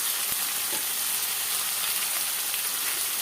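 Sundakkai, turkey berries, sauté over a low flame in a pan, a continuous close hiss and sizzle with a faint stirring scrape near the start and no voices.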